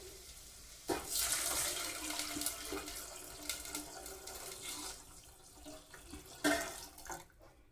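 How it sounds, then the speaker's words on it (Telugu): Tomato rasam poured into a hot tempering, a splashing rush of liquid that starts abruptly and keeps gurgling and hissing against the pan, loud and near, with a second surge toward the end and no talking. "ఇప్పుడు మనం దీనిలోకి రసం వేసేసుకుందాము"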